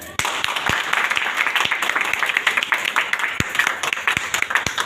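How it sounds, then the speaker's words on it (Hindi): A seminar audience in a company office claps for the office, a lively round of applause with distinct individual sharp claps standing out, fairly close and continuous throughout. "एक बार ऑफिस के लिए तालियां हो जाए।"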